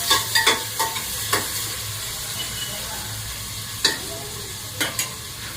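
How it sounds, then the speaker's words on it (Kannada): Onion and beans frying in oil in a pan while being stirred: a steady sizzle with several sharp clicks and scrapes of the spoon against the pan, close up. "ಎಲ್ಲ ಎಣ್ಣೆಯಲ್ಲಿ ಫ್ರೈ ಆಗಿದೆ"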